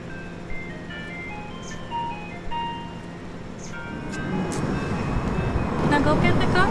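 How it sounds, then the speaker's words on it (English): An ice cream truck plays its jingle melody steadily throughout, with rising street and engine rumble toward the end and voices talking nearby. "Ceci, what the heck are you doing with this ice cream truck?"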